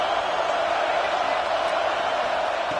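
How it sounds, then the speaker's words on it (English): Stadium crowd noise in the CFB26 college football video game, a broad steady roar that sits fairly quiet and continuous with no distinct voices standing out. "It's early, but this crowd is fired up. Listen to this noise here."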